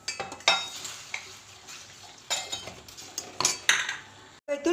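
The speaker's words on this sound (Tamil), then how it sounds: "போட்டு நல்லா மிக்ஸ் பண்ணி விட்டுருங்க." A spoon scrapes and clinks against a pan as coriander powder is stirred into a simmering tamarind mixture. The knocks and scrapes come at an irregular rhythm, with a soft sizzle underneath.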